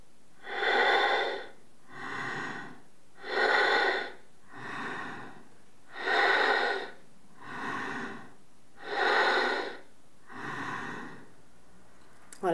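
Forceful bhastrika bellows breathing, steady alternating loud belly exhalations and softer inhalations, about eight strokes in a regular rhythm, close and alone with no talk.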